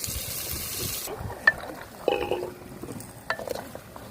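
Marinated chicken drops onto sautéed onions in a pan with a soft thump and scraping, followed by low frying and stirring sounds, quiet and close, with no voices.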